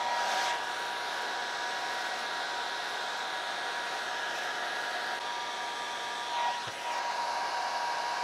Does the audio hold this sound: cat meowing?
no